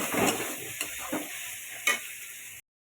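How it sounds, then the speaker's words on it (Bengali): Spices sizzling in hot oil with a steady hiss, punctuated by a few scraping stirs of a spoon, then abrupt silence. "এবার মশলাগুলোকে একটুখানি সুন্দর করে ভাজা ভাজা করব"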